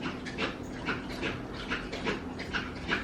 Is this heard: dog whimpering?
yes